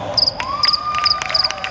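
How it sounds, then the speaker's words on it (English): A cricket chirping sound effect is played over loudspeakers at a street performance at Universal Studios, giving short, evenly repeated high chirps alongside a sustained whistling tone. "Oh, I played the crickets too early"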